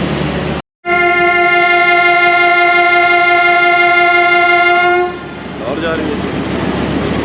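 A train horn blasts long and loud on the Mianwali Express, a steady tonal blare lasting several seconds. The heavy rumble of the running train continues underneath and after the horn ends.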